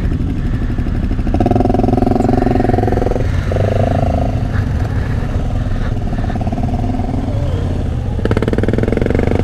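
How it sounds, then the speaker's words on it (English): Several motorcycle engines rumble and idle close by at the 2021 ABR Festival, with brief revs and steady low droning throughout, no one talking. "Look at all these motorcycles. There's motorcycles everywhere."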